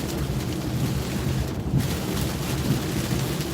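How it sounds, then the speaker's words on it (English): A severe thunderstorm with rain and 25 to 30 mph winds, heard from inside a vehicle with its wipers running: a steady, loud, dense roar of wind and rain that holds without pause throughout. "Good old-fashioned severe thunderstorm."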